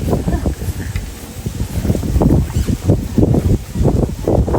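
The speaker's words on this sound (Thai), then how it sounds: "ลมดี" Wind gusting through a private forest garden in Thailand, rough low rumbling buffets on the microphone that swell and ease in irregular pulses, loud and close, with faint rustling behind.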